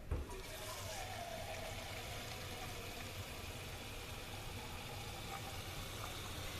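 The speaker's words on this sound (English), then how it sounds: "I'm going to go ahead and add a little bit of water to the mixture" Water is poured into a shrimp etouffee mixture in a pot, giving a continuous rushing, splashing pour that starts abruptly and holds steady for several seconds, with no talking.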